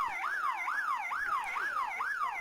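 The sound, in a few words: full-time siren at a schoolboy rugby league match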